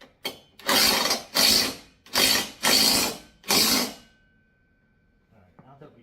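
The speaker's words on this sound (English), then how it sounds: "let's just finish drilling this in a little bit further" A power drill runs in five separate bursts, about half a second each in a steady rhythm, as a heavy-duty wall-mounted pull-up bar is fastened to a wall; the bursts are close and loud, followed by quiet handling noise.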